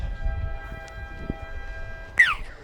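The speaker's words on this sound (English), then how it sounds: "that will be just about it for the first half as the siren sounds." A short siren wail ending the first half of a football match at a sports ground rises sharply near the end over quiet ambient noise, loud against a calm background.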